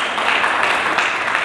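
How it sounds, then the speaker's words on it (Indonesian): A church congregation applauds during a Pentecost service, a dense, even wash of clapping from many hands sustained without a break. "Mari kita berikan tepuk tangan bagi Yesus Kristus Tuhan."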